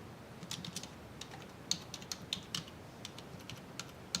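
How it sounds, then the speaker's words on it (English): Faint, irregular clicks of fingers typing on a computer keyboard, a scattered run of light key taps with small pauses, heard alone in a quiet room. "I can't type today."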